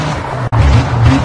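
A rally car engine in the video game WRC 5 roars loudly and steadily, with a brief dropout midway before the drone resumes.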